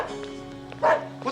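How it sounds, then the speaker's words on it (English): A dog lets out a short bark or yip in an indoor scene of the television series Snobs, brief and close, with some talk around it. "What the hell is this dog doing here?"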